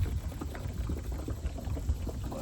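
Diesel fuel glugging from a 2.5-gallon container into a truck's tank, a continuous low bubbling, gurgling pour at close range with no voices.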